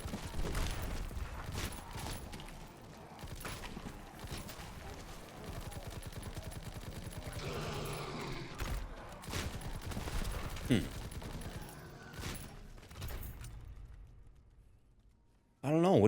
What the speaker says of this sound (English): I feel like it's kind of just another machine gun